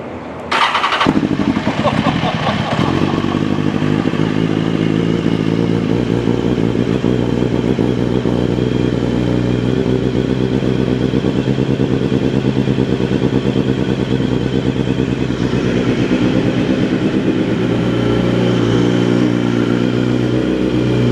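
A BMW HP4 race motorcycle engine roars loud and close from the rider's point of view, a steady harmonic drone with rising and falling revs throughout.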